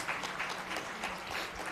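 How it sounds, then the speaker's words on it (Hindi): Audience at an international Buddhist conference in Nagpur applauds, a soft, steady patter of many hands clapping, fairly quiet and distant for under two seconds. "तालियां एक बार बजा दो उनके लिए।"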